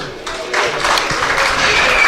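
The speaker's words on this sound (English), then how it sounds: "He's announced, warm applause" Warm applause from a cricket crowd at a Worcestershire Rapids versus Hampshire one-day match as a bowler is announced, a broad steady clapping that swells after a quiet start and holds loud to the end.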